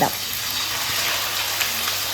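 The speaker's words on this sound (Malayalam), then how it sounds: "ഇത് നല്ല പോലെ വഴറ്റി ഉള്ളിയുടെ നിറം ചേർന്ന് ഉള്ളി നല്ല പോലെ ഇങ്ങനെ വെന്തൊന്ന് സോഫ്റ്റായിട്ട് നിറം ചെറുതായിട്ട് മാറി വരണം" Shallots sautéing in coconut oil with mustard seeds and fenugreek for Erode-style Chintamani chicken, giving a steady, close, hissing sizzle that fills the whole stretch, with a brief louder crackle at the start.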